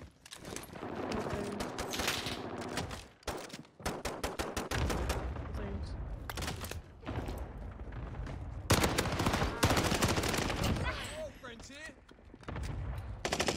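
Bursts of gunfire from a weapon such as an MP40 fill a Rebirth Island battle royale match, with rapid repeated shots and volleys spread across the stretch, mixed with other game sounds and voices.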